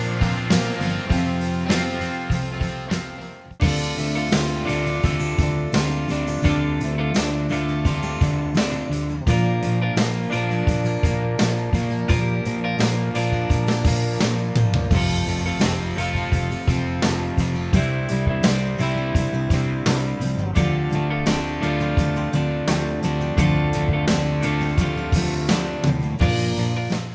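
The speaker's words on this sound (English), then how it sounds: "which features 3 driving British rock guitars" Full-band British rock music plays continuously, with three driving distorted guitars over steady drums and bass, a short break near the start, then a loud, dense groove.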